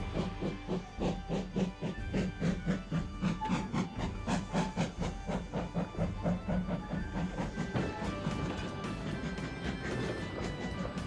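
Steam engines pull a heavy train of trucks away, giving rhythmic chuffing and hissing bursts that gradually quicken, steady and moderately loud, with a faint whistle-like tone late in the sequence.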